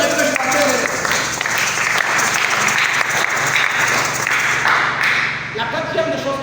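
A church congregation applauds in a sustained, loud wash of clapping from many hands filling the room, with voices calling out beneath it.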